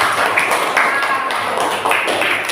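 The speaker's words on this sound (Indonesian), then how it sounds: "tepuk tangan dulu untuk kita semua" A group claps their hands together in a dense, steady patter, fairly loud and close, with no speech.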